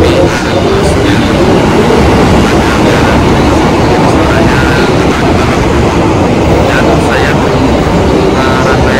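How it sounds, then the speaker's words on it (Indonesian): Loud, continuous rumble and hum of the Argo Semeru passenger train idling or rolling at an Indonesian station, steady throughout with faint clatter mixed in. "Ini dia nih kereta api Argo Semeru."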